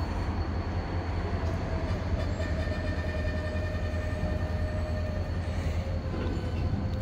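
Train cars roll along rails in a steady, continuous rumble, with faint wheel squeals drifting over the low drone at moderate distance, no talking.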